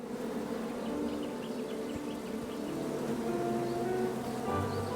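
Bees buzz steadily in the King's Quest video game, a constant hovering drone with faint birdlike tones over it, with no talk.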